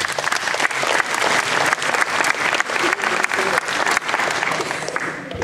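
An audience applauds young players at a tournament, steady close clapping filling the room with a few brief pauses.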